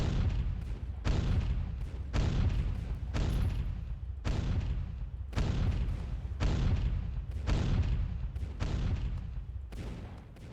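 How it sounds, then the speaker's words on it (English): Naval guns ripple fire in the NavalArt video game, a steady series of about ten heavy booms spaced roughly a second apart, each with a rumbling decay, loud and close. "Let's go ripple fire for a bit."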